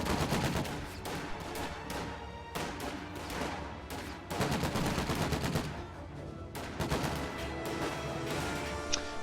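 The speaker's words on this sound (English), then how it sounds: "MG-42 set up across the river is going to suppress those" MG-42 machine gun fire in a WWII strategy video game rattles in repeated long bursts, dense and continuous, with mixed battle gunfire layered throughout.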